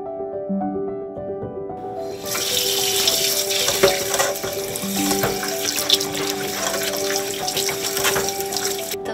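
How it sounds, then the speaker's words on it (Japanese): Soil-covered carrots scrubbed with a scrubbing brush under a running kitchen tap, with steady close water flow and splashing starting after a couple of seconds alongside faint scraping, plus a low hum before the water begins. "皮までしっかり食べたいので、この土をたわしで丁寧に洗っていきたいと思います。"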